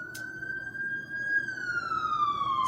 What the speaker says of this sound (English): I've been hearing these cops and ambulances for a minute.